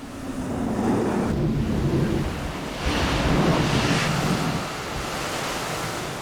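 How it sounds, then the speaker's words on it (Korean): Ocean waves surge into a rock hole on a Western Australian beach and spout water upward, a loud rolling wash of surf in two swelling rushes with gusty wind buffeting the microphone. "해변의 암석 구멍으로 파도가 밀려올 때마다 물줄기가 솟구쳐 오릅니다."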